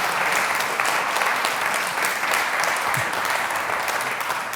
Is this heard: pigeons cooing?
no